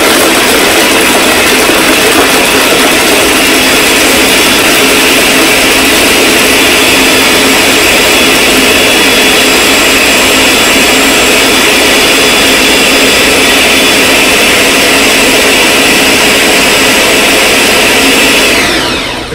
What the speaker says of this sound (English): I'm using a neutral professional, it's a 1500 watt. Blender.